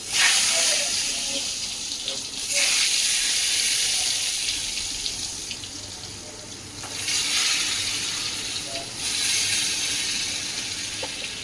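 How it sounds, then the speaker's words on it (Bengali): Food frying in a hot wok gives a steady, close hiss that rises and falls in several surges over the whole stretch, with no talking. "আবার যে ভাজা হচ্ছে"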